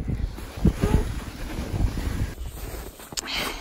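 Wind buffets the microphone in a steady low rumble with gusty swells, loud and close throughout.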